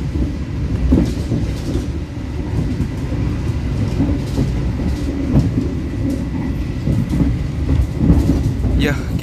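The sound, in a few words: Argo Bromo Anggrek executive train running on rails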